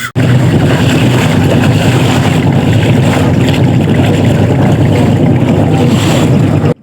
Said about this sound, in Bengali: আমাদের নৌকা এখন ছেড়ে দিচ্ছে নৌকায় ঘাট থেকে ছাড়ছে